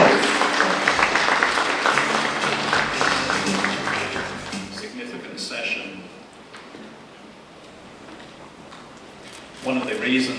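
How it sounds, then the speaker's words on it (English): A conference audience breaks into applause, a dense wash of clapping that fills the first five seconds, then thins and fades to quiet before a brief rustle at the end. "Please give him a big round of applause."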